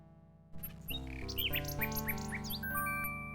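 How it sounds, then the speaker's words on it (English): A small bird chirps in the adventure game King's Quest VI, a short run of bright synthesized tweets over a sustained game music chord. "The little bird makes a delivery."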